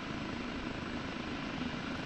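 Kiowa Warrior helicopter in a steady hover in the DCS flight simulator: continuous dense engine and rotor roar, even and unbroken, with a low throbbing underlayer.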